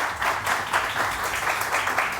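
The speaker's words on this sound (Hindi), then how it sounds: "ईशा के लिए बहुत सारी तालियां।" A studio audience on a Pakistani morning talk show claps for a guest named Isha, a steady crackle of applause running throughout at moderate level with no pause.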